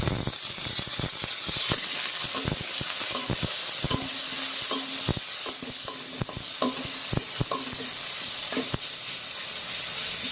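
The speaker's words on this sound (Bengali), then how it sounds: "সব মশলা কষানো হয়ে গেছে" Spices and chopped tomato fry in a pan with a steady hiss close by. Frequent rhythmic clacks of a spatula scraping and stirring run all the way through.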